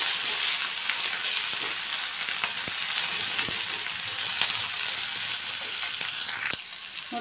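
Dried red chillies frying in a pan for a ganike (black nightshade) greens palya make a steady, close sizzle with a few sharp ticks and stirring scrapes, no voices.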